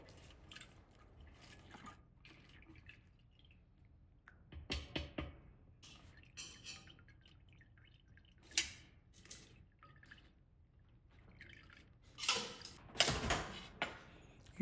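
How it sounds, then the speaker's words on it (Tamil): Ginger juice drips through a strainer in quiet, scattered drops and small splashes, a few clustered together, against near silence. "அதை எடுத்து ஒரு வடிகட்டியில் போட்டு அந்த ஜூஸை நல்லா எக்ஸ்ட்ராக்ட் பண்ணி வச்சுக்கோங்க"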